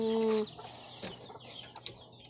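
Backyard chickens behind a house give a short burst of soft clucks and scattered fowl calls, with a brief tonal call at the start. Faint and nearby over quiet outdoor ambience.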